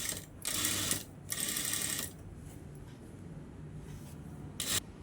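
A sewing machine stitching fabric piping in bursts, with a loud whirring run near the start, a second shorter run just after, then a brief final burst near the end, close by and with no talking.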